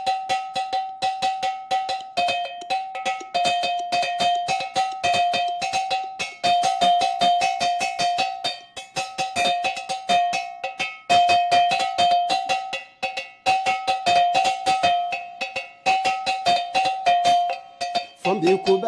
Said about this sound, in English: And this, we call it kalimbo. Kalimbo. A local flute.